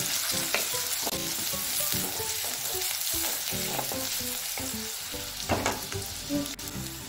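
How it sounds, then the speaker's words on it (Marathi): Green chili and capsicum fry in hot oil in a pan for cabbage Manchurian, with a loud continuous sizzle broken by repeated scraping and stirring knocks of a spatula. "लगेच मिरची, लगेच शिमला मिर्च टाकून घेऊया। चांगल्या प्रकारे फ्राय होऊ द्यायचं आहे।"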